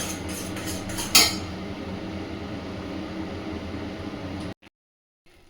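Semolina stirred in a pan to dry it out, a steady close scraping rush with a sharp clink near the start, which cuts off abruptly into near silence.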